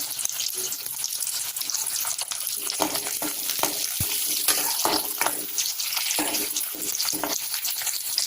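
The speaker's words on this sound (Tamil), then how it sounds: "வெங்காயம் ஒரு நிமிஷம் நல்லா வதங்கட்டும்" Onions sautéing in a pan for a Tamil brinjal and okra tamarind curry give a steady close sizzle with occasional stirring scrapes, continuous and even with no talk.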